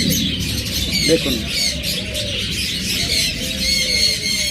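Pet pigeons coo and chirp steadily close by, a soft continuous flock murmur with a few brighter calls, while someone talks over them throughout.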